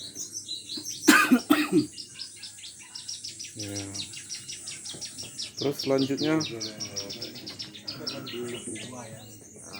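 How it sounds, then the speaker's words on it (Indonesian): Songbirds chirp at a nighttime bird-lovers' roadside coffee stall, quick repeated tweets and trills at close range, mixed with a cough and someone talking. "yang namanya Warkop Kicau pasti ada suara-suara kicaunya kan"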